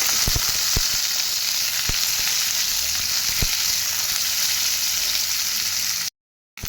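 Onions fry steadily in hot oil with mustard seeds for a potato bhaja, a loud, even sizzle with a few sharp pops of seeds, then a brief cut to silence near the end.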